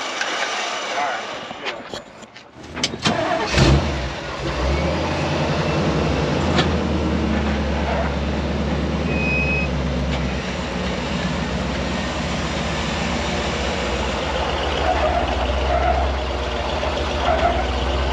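Engine of a side-by-side UTV idling and pulling slowly onto a trailer, a steady low rumble building after a few clattering knocks at the start, with people talking nearby.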